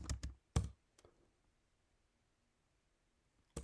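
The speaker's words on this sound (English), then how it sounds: "We just need to type yes." A few quick keystrokes on a computer keyboard while typing a short word into a terminal connecting to an Ubuntu EC2 instance: a close cluster of clicks, one lone tap, then near silence and a final tap at the end.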